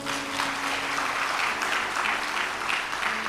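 An audience claps steadily at a devotional storytelling gathering, a dense, continuous patter of many hands that holds its level throughout.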